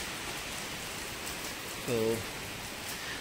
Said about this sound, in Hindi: देखो अभी भी बारिश आ रही है जबरदस्त है और ज़्यादा जोर जोर से आ रही है